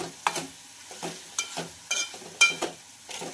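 A spoon scrapes and stirs mashed brinjal bharit frying in a pan, with sharp, regular strokes about every half second over a soft sizzle, up close and without voices.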